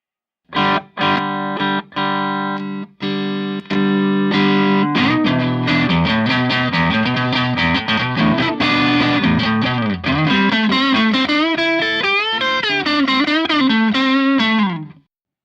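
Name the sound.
electric guitar through Fulltone OCD overdrive pedal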